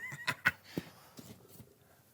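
A horse whinnies in a short, faint, high burst with a few clip-clop-like knocks trailing after it, played as sound number two in a guessing game.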